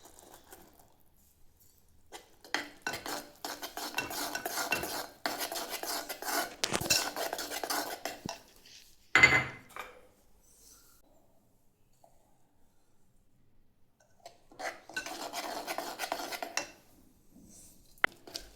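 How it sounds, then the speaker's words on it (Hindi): Sesame and peanut powder mixture stirred in a pan with the flame off, a spoon scraping and clinking against metal in close, irregular bursts, separated by quiet pauses and one sharp knock. "हमें फ्लेम ऑफ करके ये मिक्स करना है"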